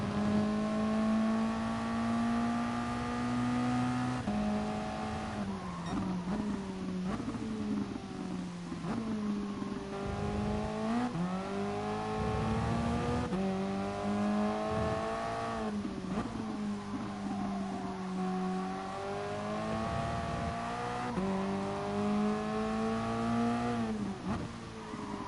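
A Toyota race car engine revs hard around the Catalunya circuit, a loud continuous whine that climbs through the gears, dips briefly on each shift and again under braking, then pulls back up.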